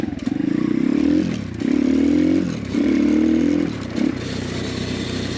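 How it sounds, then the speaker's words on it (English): An X Pro Storm 150 DLX pit bike engine revving in repeated bursts, each throttle blip followed by a lighter, buzzy rattle from a slightly loose chain and a faint plastic-guide whine when off the throttle, close and loud. "The chain's a little loose still, so when you're off the throttle, you hear that kind of a little buzzy sound"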